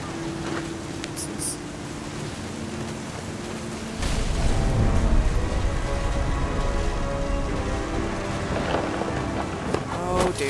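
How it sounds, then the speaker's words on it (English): Stormy weather in the game What Remains of Edith Finch: steady rain hisses throughout, then a heavy low rumble of thunder rolls in and lingers under the downpour, with faint voice sounds. "The thunder sounded much too close and full of angry power."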